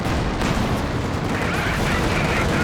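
Tank guns fire in a Company of Heroes 2 match, a dense, steady wash of battle noise with booms blended into continuous rumble, loud and busy throughout.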